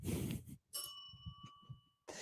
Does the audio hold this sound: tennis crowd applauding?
no